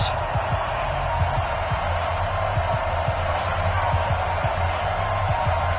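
A football video game stadium crowd, Toronto Huskies facing the Green Bay Packers, keeps up a broad, steady roar and cheer as a dense background wash, with a commentator-style voice talking over it.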